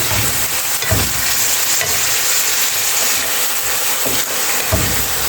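Chicken sautéing in a pan for a spicy coconut milk dish, a steady loud sizzle and hiss with a few dull knocks of stirring, close up and without talk.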